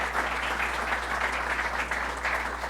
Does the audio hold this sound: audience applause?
yes